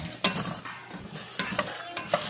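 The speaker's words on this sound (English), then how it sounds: "Got our potatoes in here frying up." Steady sizzling and crackling of potatoes frying in a pan, with a few scraping stirs and clicks, close up.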